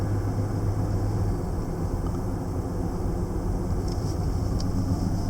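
A Jeep Wrangler JL engine hums steadily at close range, a low continuous drone with rumble and road noise, no distinct revving bursts.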